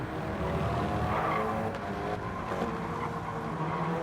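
A race car engine drones steadily as the throttle is feathered in a racing video game, a continuous loud whine with shifting pitch and hints of tyre scrub, no talk.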